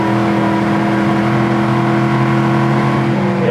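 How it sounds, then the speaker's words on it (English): A 1971 Camaro V8 pulls hard under acceleration, its engine and exhaust giving a loud, steady, rising drone heard from inside the car, continuous throughout with no talk. "It's got the perfect sounding exhaust to go with it."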